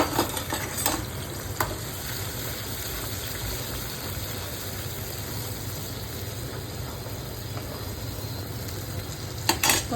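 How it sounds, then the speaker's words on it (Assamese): Spices fry and sizzle in hot oil in a pan for an Assamese fish curry, a steady dense crackling hiss lasting throughout, with a few faint clinks of a utensil being stirred. "এতিয়া তেলত এইখিনি মছলা দিম।"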